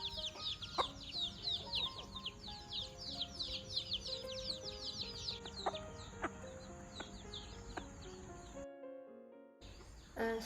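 Chickens in a secure garden coop cluck and chirp busily after being fed rice, with many overlapping calls at close range, continuous and lively, no talking.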